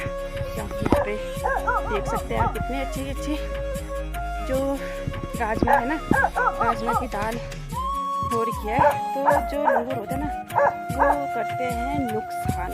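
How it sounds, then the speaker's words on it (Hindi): A dog barks and yips repeatedly with howling, whimpering notes in a hillside village, fairly close, while someone talks over it throughout. "तो इस वजह से ये कुत्ता भौंक रहा होगा"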